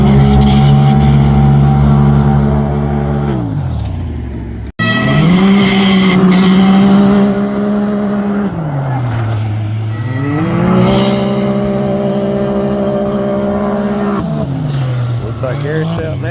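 Side-by-side off-road vehicles race at a county fair, engines droning loud and close with rising and falling revs as they pass, a brief cutout midway, and someone commentating over the noise.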